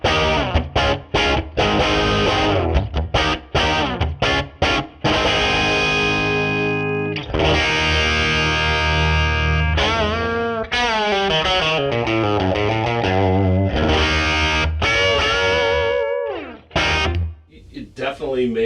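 Electric guitar driven through a Metropoulos Supa-Boost pedal into a Marshall Lead 12 amp, loud and distorted, with choppy chords giving way to long singing sustained notes and bends full of overtones, played close and alone.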